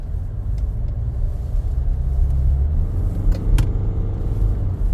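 A Hyundai Santa Fe fitted with a Cyclone 7 intake device accelerates smoothly, its engine a steady low rumble heard from inside the cabin, with a few faint clicks and knocks over the drone.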